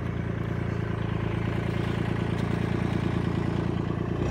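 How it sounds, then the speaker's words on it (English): A tractor engine runs steadily outdoors, a continuous low, even rumble of idling with no pauses or obvious revving, heard alone without any talk over it. "The tractor."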